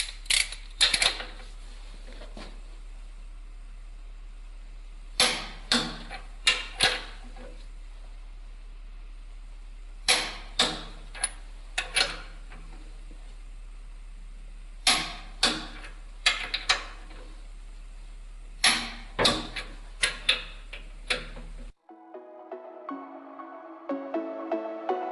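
A ratchet wrench tightens the crankshaft bolt on a Volvo TD122 diesel engine to 365 torque, giving repeated short bursts of sharp metallic clicks separated by pauses, close and clear, before music takes over at the end.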